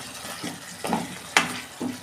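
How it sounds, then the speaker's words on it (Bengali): Ginger and cumin spices frying in a pan for Bengali aloo dum, a soft continuous sizzle and bubbling with a few light stirring scrapes, close and moderately quiet, with no talking. "আমি একটু ভালো করে এটা কষাবো 2 মিনিট।"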